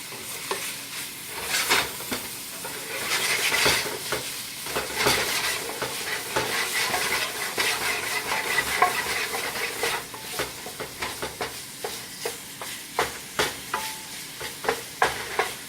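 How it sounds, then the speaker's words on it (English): Sausage meat for spaghetti sizzles and fries in a pan while being stirred, with steady crackling fat and repeated scraping strokes of the utensil, close and fairly loud with no talking. "this part of the process is just to caramelize the meat and get some of the fat out of there too"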